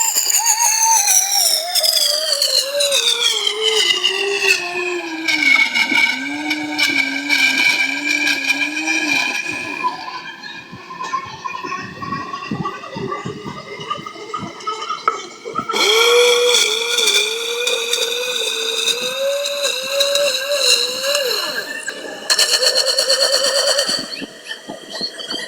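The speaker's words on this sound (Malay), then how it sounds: "saya blend sehingga betul-betul hancur dan sebati bersama ais tadi" A blender crushes pineapple chunks with ice cubes, a loud whining motor whose pitch dips and climbs as the load shifts, with gritty rattling of ice through the middle and a renewed high whine later.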